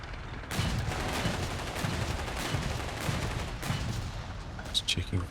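Machine gun fire in Company of Heroes 3, rapid repeated bursts rattling over a dense battle din with distant booms, and a commentator talks over it.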